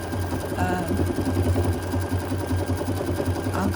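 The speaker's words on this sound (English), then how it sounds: "This is going to take 23 minutes to stitch" A Bernina 770 QEE sewing machine stitches a quilt label with a loud, continuous, rapid mechanical whir and a steady motor hum, heard close up with no pauses.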